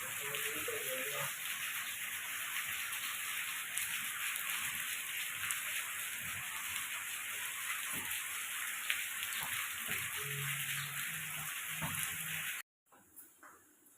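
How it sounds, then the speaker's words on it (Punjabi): A dense, steady hiss of heavy rain pours throughout, broad and close, with a few faint knocks and hums beneath before it cuts off abruptly. "ਮੀਂਹ ਬਹੁਤ ਜ਼ੋਰਾਂ ਸ਼ੋਰਾਂ ਨਾਲ ਪੈ ਰਿਹਾ ਹੈਗਾ"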